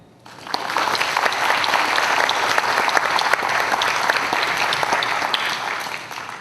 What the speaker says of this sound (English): give him a big round of applause and a big welcome